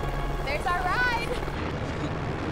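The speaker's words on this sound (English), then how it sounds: "Helicopter came out of the sky, and my jaw just drops." Steady low rotor rumble of a helicopter fills the clip, with a brief whistling, warbling tone riding over it near the start.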